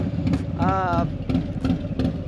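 A motorcycle with an SPC Lane Splitter exhaust and a 475 cam runs nearby with a deep, pulsing engine rumble. Someone talks over it.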